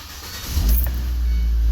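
A 2012 Ford Transit Connect engine cranks briefly and catches, settling into a loud, steady low idle after a short starter whir, close by with no talk.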